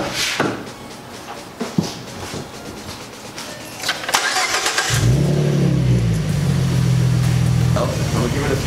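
A 2013–14 Ford Mustang V6 fitted with a JLT cold air intake starts with its hood partly open. Tool clatter comes first, then the engine cranks, catches and settles into a loud, steady idle close by.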